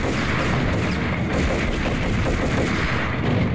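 Explosion and rattling gunfire in the Max Payne shooter game, dense continuous crackling bursts with heavy low booms, loud and close throughout.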